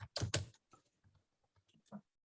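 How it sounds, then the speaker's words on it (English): Computer keyboard typing, a few loud clustered keystrokes at the start followed by sparse, fainter key taps, heard alone without speech. "I'm typing this out."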